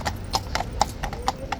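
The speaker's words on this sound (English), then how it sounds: "Extraordinary horse here." Horse hooves at Horse Guards give a steady run of crisp clip-clops on hard ground, about eight close, evenly spaced strikes against quiet outdoor background noise.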